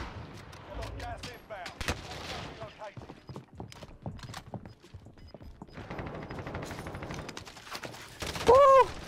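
Gunfire in Call of Duty: Warzone Pacific, scattered sharp shots and short bursts amid game noise, with a louder crack near the end and a voice talking throughout.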